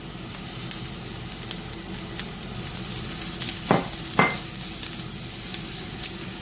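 Shrimp going into a hot pan for potstickers, with a constant close sizzle and two short sharp clatters near the middle as pieces land or get stirred, no voices.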